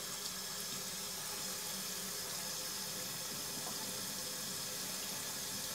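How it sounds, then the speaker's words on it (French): Water rushing steadily down a freshly unclogged drain pipe, a continuous broadband gurgling flow at close range that holds level throughout with no talking. "je vais ouvrir et je vais voir si l'eau, elle s'écoule, elle ne remonte pas"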